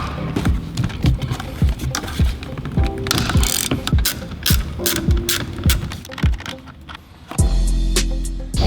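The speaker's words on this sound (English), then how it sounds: "grab the T30 Torx bit and unscrew the 2 bolts that are holding the airbag in place" A ratchet fitted with a T30 Torx bit unscrews the airbag bolts on a BMW E36 steering wheel, giving loud, close, rapid clicking strokes in repeated bursts, then a steadier mechanical whir near the end, with no voices.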